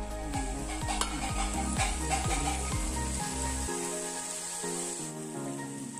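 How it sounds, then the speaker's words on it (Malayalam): A spoon stirs tomato, chilli and soy sauces into a sizzling pan for beef macaroni, with a run of rhythmic metallic scrapes and clinks that fades toward quieter sizzling by the end. "അത് നന്നായിട്ടൊന്ന് മിക്സ് ചെയ്തെടുക്കാം"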